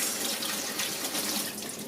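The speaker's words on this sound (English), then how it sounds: "So I'm going to do exactly the same with the cauliflower, give it a little rinse." Cauliflower being rinsed under a running kitchen tap, a continuous soft hiss and splatter of water falling into a sink, steady and close with no talking.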